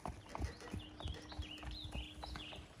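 A horse's hooves clip-clop at a steady walking pace close by, with birds chirping faintly in the background.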